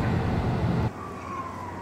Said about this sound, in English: That thing almost sounds like a siren.